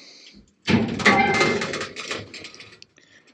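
Heavy metal smoker cabinet door on a cable, pulley and roughly 20-pound counterweight swinging open: a sudden loud scraping, rattling rush that fades over a couple of seconds to a faint clatter.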